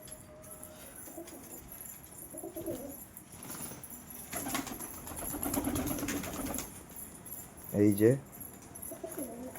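Pigeons in a loft coo while being fed wheat, one short clear coo standing out near the end after a stretch of rustling and faint flapping, with someone speaking briefly.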